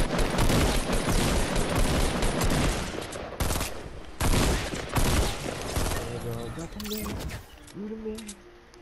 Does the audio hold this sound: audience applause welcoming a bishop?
no